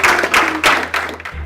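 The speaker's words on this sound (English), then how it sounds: "give yourselves a round of applause" An audience of competition finalists gives itself a round of applause in a room, with dense, uneven clapping swelling in several waves over a second and a half.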